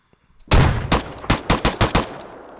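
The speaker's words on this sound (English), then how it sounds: "there's more than one person firing at me" Gunfire in the Arma 3 military video game: one loud close burst followed by about six sharp, evenly spaced shots ringing out over a hillside battle, with no talking.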